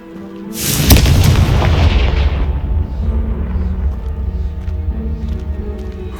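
A Confringo fire spell blasts a pile of debris in Hogwarts Legacy, a single loud, close boom that rolls into a long rumbling decay lasting several seconds.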